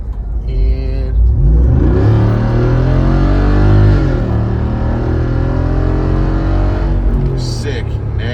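A 2021 Jeep Wrangler Rubicon 392 V8 pulls hard from 30 mph, a loud, close engine roar rising steadily in pitch through one long acceleration before dropping off briefly and climbing again, with people talking over it inside the cabin.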